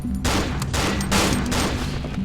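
Rapid bursts of enemy gunfire fill a tense shooter video game, dense and loud, with overlapping shots and a steady low rumble throughout.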